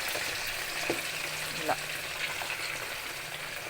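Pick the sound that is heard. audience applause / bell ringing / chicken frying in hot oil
chicken frying in hot oil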